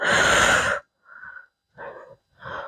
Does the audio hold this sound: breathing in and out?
yes